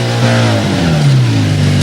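A car engine revs hard during a 1985 motocross-style event, the pitch climbing and sliding as the motor is pushed flat out, loud and close with no talk.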